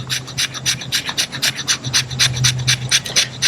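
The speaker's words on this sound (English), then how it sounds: "let's just see if it'll scrape some cedar shavings down" A camp knife's spine scraping shavings from cedar wood, a rapid rhythmic rasping of about a dozen strokes, close and clear, each stroke a short scratchy burst.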